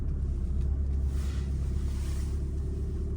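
A Volkswagen Golf 7 GTD with a 2.0 TDI diesel engine pulls away, heard from inside as a steady low engine rumble and drone with faint road noise, no voices.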